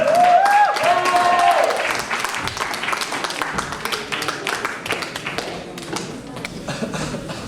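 An audience applauds a poet at a slam poetry competition in Antananarivo, steady clapping that starts loud and continues through the clip, with a voice briefly over the start.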